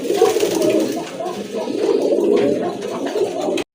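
A big male red indigo pigeon with a crested head coos steadily, a low rolling murmur filling nearly four seconds close by before cutting off abruptly.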